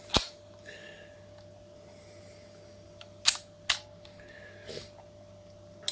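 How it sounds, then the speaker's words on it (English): A Minolta 110 Zoom SLR camera being cocked by its lever underneath: a few sharp, close mechanical clicks and snaps spaced apart over a faint steady hum. "To cock the camera,"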